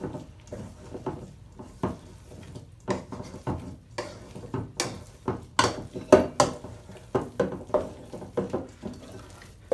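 Ciabatta dough being mixed by hand in a mixing bowl, giving irregular soft thuds and slaps against the bowl's edge and bottom, steady and close, with no talk.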